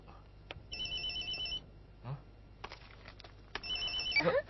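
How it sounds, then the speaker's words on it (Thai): A telephone rings in short electronic bursts of a high warbling tone, with voices talking between and over the rings in an indoor scene. "ไม่ใช่โทรศัพท์ของอาจารย์เทชินาวาระหรอกเหรอคะ"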